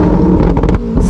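The V12 of a Novitec Ferrari 812 GTS with a Novitec exhaust revs loud and close in a short burst of rising, pulsing engine notes, with a sharp crackle at the end.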